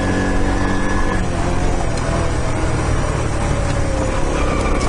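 A car passing close by during a morning postie bike ride, its engine and road noise a loud, steady broadband roar filling the whole stretch with no speech.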